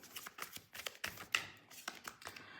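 Tarot cards being shuffled and drawn, a quick run of soft papery flicks and taps in an uneven rhythm, close and fairly quiet, with no talking.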